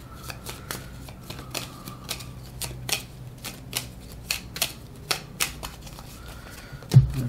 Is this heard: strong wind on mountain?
no